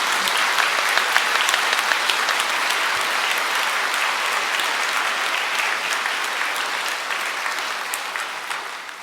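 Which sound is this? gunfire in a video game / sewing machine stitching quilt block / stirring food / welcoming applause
welcoming applause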